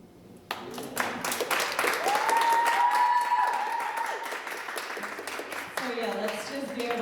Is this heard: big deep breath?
no